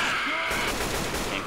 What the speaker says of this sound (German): Die Schüsse sind viel zu gut.